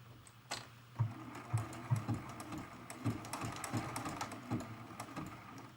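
Sewing machine running a zigzag stitch on a quilted mug rug, a soft, uneven rhythmic tapping and clatter at moderate distance with no talk.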